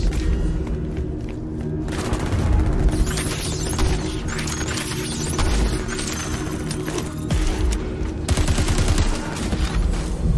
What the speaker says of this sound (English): This machine pistol is all about filling the air with lead at close range.